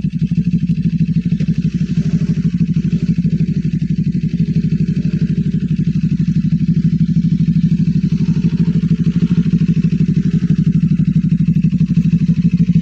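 A motorcycle engine runs at a motorcycle camping site, a loud, steady, close low rumble with a fast, even putter that holds throughout without revving.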